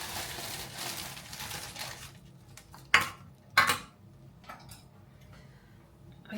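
Carrots and parsnips tumble into a home cooking pot, giving two sharp, close knocks and clatters against the pot over a low, steady kitchen background hum.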